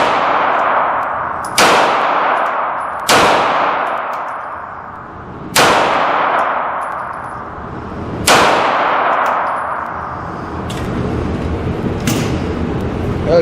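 Shots ring off swinging steel targets as a series of about eight sharp metallic clangs, spaced a second or two apart. Each strike is loud and close and leaves a long ringing decay.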